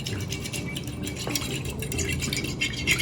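Egg and milk being whisked together in a bowl, a steady scraping, clinking stir of utensil against the bowl with light rhythmic rattles, close and moderately quiet.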